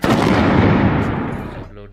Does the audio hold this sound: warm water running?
no